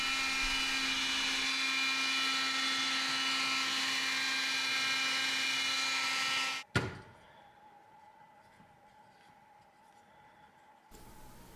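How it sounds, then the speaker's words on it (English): A small vacuum cleaner whines steadily at close range for several seconds while cleaning model train cars, then clicks off, leaving quiet room noise behind. "Then it was also time to clean the cars with a vacuum cleaner."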